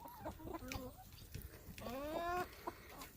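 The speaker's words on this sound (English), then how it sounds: "The chickens were getting a little hungry." Hungry chickens cluck and squawk close by in short bursts, with one longer rising call in the middle.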